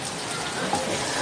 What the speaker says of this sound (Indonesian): Saking semangat na si hujan ini.